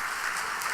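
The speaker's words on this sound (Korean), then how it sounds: "우리 박수하십시다." A Korean church congregation claps together during Sunday worship, a brief, even patter of many hands at moderate volume.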